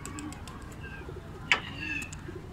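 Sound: pigeons

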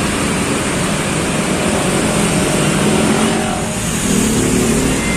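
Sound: bus BM112 departing from bus agent

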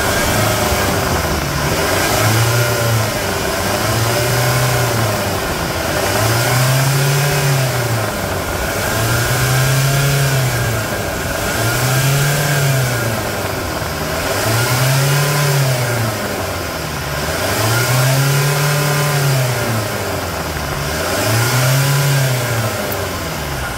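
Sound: Chevrolet S10 Duratorque 2.8 diesel engine revving

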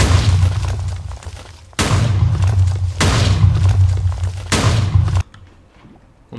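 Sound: TNT explosions in Minecraft, from a video game

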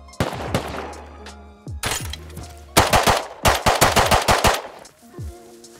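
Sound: gunfire in the video game Rust

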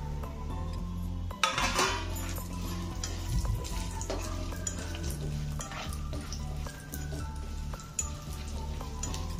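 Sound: dry-roasting almonds and chopped cashews in a pan

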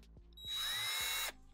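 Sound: power drill driving in a screw

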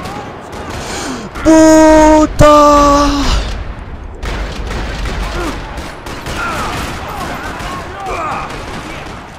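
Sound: gunfire in a parking lot in the video game Max Payne 3

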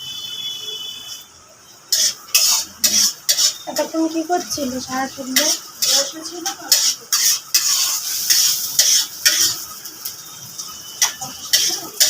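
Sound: stirring onions frying in a pan for Maggi

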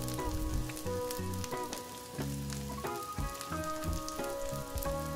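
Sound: frying chillies in a pan for egg paratha

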